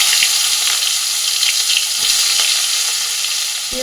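Black cumin seeds and chopped onion frying in hot oil left from frying fish, giving a steady bright sizzle throughout with faint stirring clicks, close and fairly loud.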